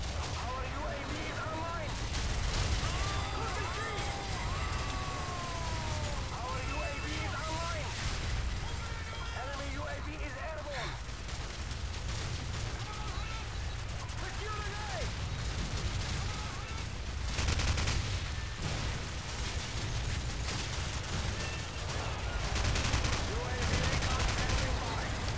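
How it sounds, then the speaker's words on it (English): Airstrike explosions in Call of Duty 4 multiplayer on the Winter Crash map, a steady wash of rumbling blasts and gunfire throughout, mostly under a voice talking. "Airstrike was messing me up."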